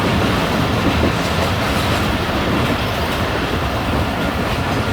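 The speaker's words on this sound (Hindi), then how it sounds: "11:40 पर ट्रेन हमारी अप्रोच बना रही है" Karachi Express train rolling into Nawabshah station, a steady loud rumble of wheels and carriages with faint clickety-clack, no talking.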